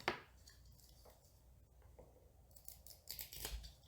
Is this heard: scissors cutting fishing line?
yes